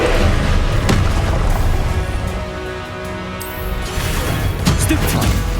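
A Confringo blasting spell goes off in Hogwarts Legacy as a booming explosion among other spell effects, loud and sustained with a sharp crack early on, while a player's voice calls out over the din.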